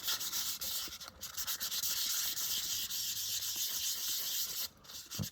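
Hand sanding of a polymer clay kaleidoscope pendant, with steady, close rasping strokes that run almost without a break and pause only briefly near the end.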